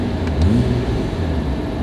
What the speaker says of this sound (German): Wie der Motor anspricht.